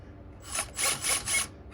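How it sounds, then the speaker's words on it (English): Three short bursts of high, grinding rasp, a 1/2-inch drill bit biting into metal, close and fairly faint, each lasting about a third of a second. "we're going to start off with a 1/2-inch drill bit"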